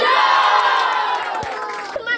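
A school audience of students and teachers cheers and shouts to welcome a young pupil speaker, loud bright crowd whooping that fades slightly, with a couple of sharp knocks near the end.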